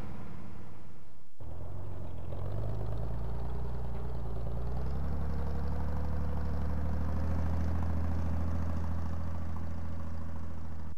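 A Super Star water-cooled 0.77 litre diesel engine starts and settles into a steady idle, a continuous low rumbling drone that runs on alone.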